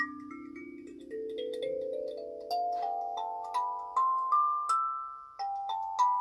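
Hollow body kalimba plucked note by note in a slow rising scale, each tine ringing clear and bell-like with a long decay, one key sounding dull and short where a dead spot damps the tone; close, alone, no talking.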